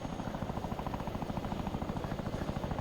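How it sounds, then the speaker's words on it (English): Chinook helicopter in the video game ARMA 3, engines spooled up, giving a loud, continuous rotor thump with a steady rapid beat and a constant turbine whine throughout. "I was gonna leave the Chinook spooled up"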